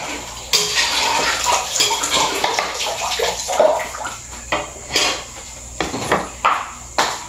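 Tap water runs and splashes steadily while food is washed during home cooking, with intermittent louder gushes and light clatter of dishes close by.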